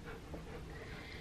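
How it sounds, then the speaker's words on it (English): A small dog breathes in heavy, steady pants close by, a continuous breathy rasp that runs through the whole moment without speech. "She breathes pretty heavy, so you might hear that in the background."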